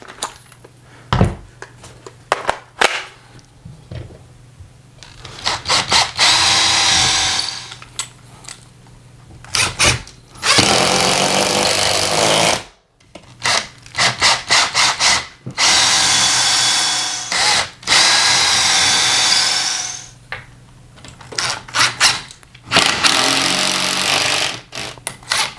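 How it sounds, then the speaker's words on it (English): A power drill bores holes into a wall to mount a TV bracket, with several loud, sustained whirring runs of a few seconds each, separated by brief pauses and short trigger blips, close by and without talk. "So now it's time to drill the rest of our holes."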